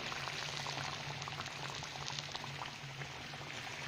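Moroccan dough fries in hot oil in a pan, giving a dense, close, continuous sizzle and bubbling crackle throughout, with no talk.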